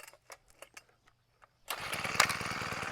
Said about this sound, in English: The machine's not real cold, so you can hear it just idling.